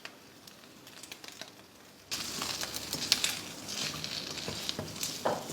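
Chicken pieces, green chilies and masala being stirred in a hot kadhai, with a steady close sizzle and scraping stirs that grow louder partway through, no talking.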